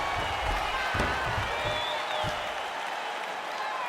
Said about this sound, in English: We'll see if the crowd can be mature about this, DC.